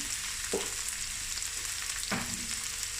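Steady crackling sizzle of leftover peppers frying in a pan, with a couple of brief clinks or stirring knocks, close and continuous.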